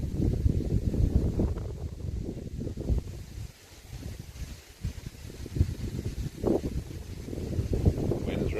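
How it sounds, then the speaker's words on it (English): Strong wind during a severe Pennsylvania storm, gusting in heavy rumbling buffets against the microphone that swell and ease, with a brief lull midway. "Wind's really kicking up."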